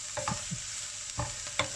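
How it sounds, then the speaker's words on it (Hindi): Spices tempering in hot oil with a constant hiss, punctuated by a few sharp clinks and scrapes of a utensil against the pan. "अब इसे थोड़ा सा तड़काऊँगी मैं"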